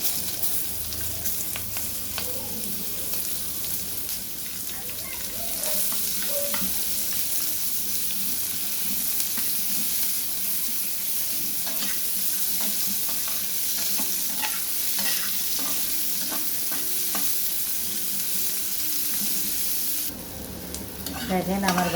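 Onion fries in a pan with a strong, continuous sizzle and hiss, with occasional light stirring clatters mixed in throughout.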